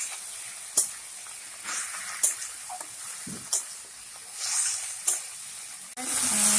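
Lau ghonto with moong dal sizzles gently in a pan while being stirred, with soft scraping strokes and a few sharper clinks of the spoon against the pan, ending in a louder burst of frying.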